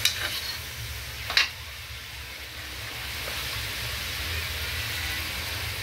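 Food stirred in a pan as it browns during a children's cooking competition: a couple of sharp utensil scrapes near the start, then a soft, steady sizzle that continues alone.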